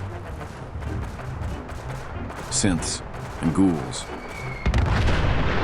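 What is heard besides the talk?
gunfire in the video game Fallout 4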